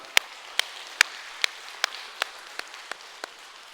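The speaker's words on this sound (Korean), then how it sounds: "하나님께 영광의 박수" Sparse, sharp claps from a church congregation giving applause after a sermon declaration of faith, about a dozen separate hits spaced roughly evenly, fairly quiet over a hushed room.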